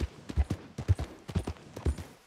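A sturdy all-rounder horse in Red Dead Redemption 2 trots along, its hooves striking in a steady, evenly spaced clip-clop rhythm, moderately close and fairly quiet.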